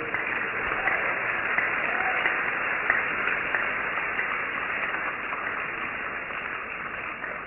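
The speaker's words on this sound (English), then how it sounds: "Give a clap of praise to Jesus." Church congregation clapping in praise during a worship service, a steady dense wash of many hands sustained evenly throughout at moderate distance, with no talk over it.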